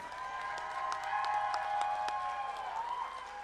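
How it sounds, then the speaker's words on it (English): Steady applause from a graduation audience at an Indian Education ceremony, many hands clapping continuously with some faint cheering, filling the room at even loudness throughout. "Let's give them another big round of applause."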